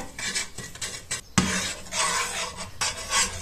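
Sugar melting into caramel in a frying pan while being stirred, close scraping and rubbing of a utensil across the pan in uneven strokes with a soft sizzle underneath and one sharper knock midway.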